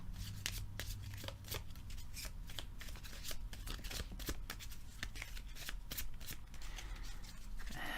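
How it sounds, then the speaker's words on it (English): A deck of board game cards is shuffled repeatedly, with rapid riffling bursts and crisp snapping clicks over steady background hiss, close by. "So I'll give this a little shuffle."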